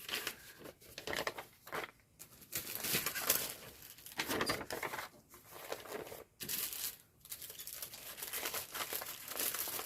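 Embroidery floss is tucked back into a small plastic bag, close crinkling and rustling of thin plastic in irregular bursts with brief pauses between handlings.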